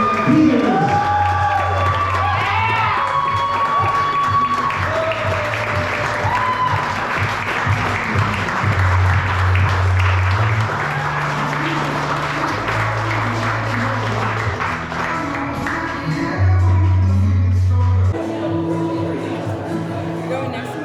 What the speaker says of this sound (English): put your hands together, make some noise for the brand new